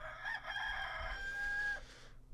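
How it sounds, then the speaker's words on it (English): A rooster, named the Reseda Rooster, gives a single loud, close crow that rises and then trails off into quiet, heard alone without any talking. "Hello to the Reseda Rooster."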